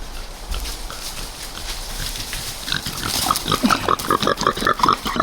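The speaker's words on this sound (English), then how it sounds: "Come over here and check on our pigs." Pigs on a homestead grunt and shuffle nearby, with soft rooting and snuffling that build into a string of short, rhythmic grunts and squeals toward the end.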